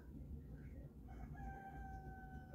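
A rooster crows once in the distance, its drawn-out call faint beneath steady low rumbling background noise.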